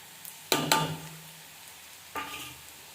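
Spices frying in a pan for egg masala, with two sharp sizzling bursts and scraping stirs close by, then a quieter stretch before another sizzle flares up.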